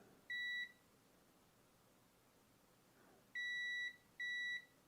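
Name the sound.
thermal camera beeping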